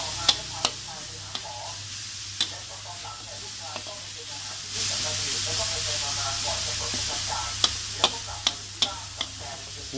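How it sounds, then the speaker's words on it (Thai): Rat meat being dry-roasted and stirred in a hot pan for a spicy stir-fry with cumin leaves, giving a continuous hiss and sizzle broken by sharp spatula scrapes and taps, near and steady throughout. "คั่วให้หอมเลยครับผม"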